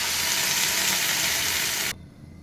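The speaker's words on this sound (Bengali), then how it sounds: "গরম জলটা দিয়ে দিলাম।" Hot water poured into a pan of frying broccoli sets off a loud, steady hissing sizzle that cuts off abruptly near the end, leaving a quiet hush.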